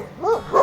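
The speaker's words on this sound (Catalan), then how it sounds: "Gossos bordant, i aquests que sonen una mica fieros." Dogs bark in the Peruvian Andes, two fierce, close barks in quick succession with no other sound around them.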